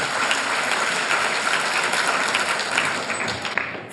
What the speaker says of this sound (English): So please, audience, huge round of applause for him.